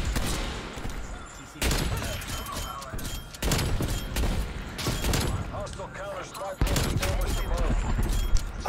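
Sniper rifle fire from the video game Black Ops Cold War: three loud, sharp shots spaced a couple of seconds apart over steady game noise, with a voice talking in the background.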